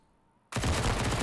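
MP9 submachine gun fire in a Counter-Strike match on the Nuke map: after a brief quiet moment, a loud, dense, sustained burst of rapid shots starts and continues to the end.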